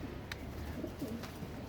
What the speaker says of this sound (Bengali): এটা হলো আরেকটা কবুতর, এটা কালেকশন করা কবুতর